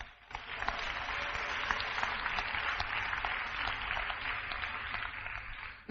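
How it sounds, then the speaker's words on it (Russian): A church congregation applauds together, a steady, mid-loud spread of many hands clapping that swells quickly and holds evenly without voices. "Дай аплодисменты Иисусу."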